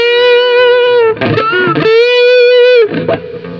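Marshall DSL40CR guitar amp cranked loud with distortion, sustained overdriven notes bending and ringing between bursts of chunky picked notes, close and very loud.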